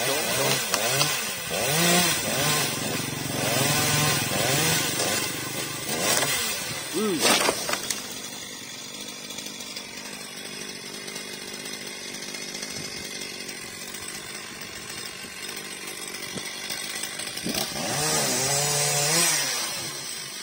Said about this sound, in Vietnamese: Đó là máy cưa Hoa Na 42 các bạn